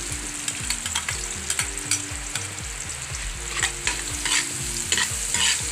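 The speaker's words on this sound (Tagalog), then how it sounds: "Yung pinong-pino na garlic natin. Saka yung onion natin," Finely minced garlic and onion sauté in a pan for a carbonara, with steady sizzling under a repeated rhythmic stirring scrape that keeps on throughout, close and fairly loud, with no voices.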